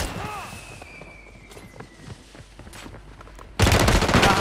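Bursts of gunfire in a Call of Duty match, a sharp shot early on, scattered cracks and footsteps, then a loud sustained volley near the end, with players talking over it.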